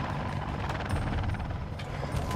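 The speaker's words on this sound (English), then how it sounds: "Thunder, the giant Russian helicopter, descends and hovers over the tank, belting out a huge blast of downdraft." The world's biggest helicopter, a giant Russian machine, hovers low over a tank while lifting an 11-tonne load, its downdraft creating a loud, steady rotor roar with a rapid rhythmic blade chop throughout.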